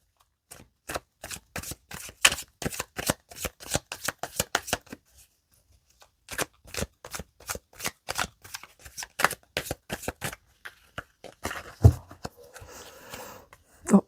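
A deck of cards is riffled and shuffled in quick crisp bursts of rapid flutters, paused briefly, then shuffled again before a soft tap as the deck is cut, all close and clear with no talking.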